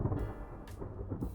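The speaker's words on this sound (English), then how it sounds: "Thunder rolls." Thunder rolls in a low, continuous rumble with a few heavier swells, a distant storm grumbling along with no voices present.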